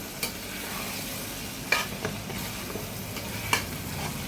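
Tomatoes, onion and ginger garlic paste fry for a Delhi-style biryani, hissing in a steady close sizzle broken by a few sharp spatula clicks.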